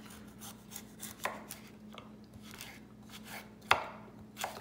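Knife chopping carrots into roughly quarter-inch cubes on a cutting board, a few scattered sharp knocks spaced unevenly over a low steady background hum, no talking.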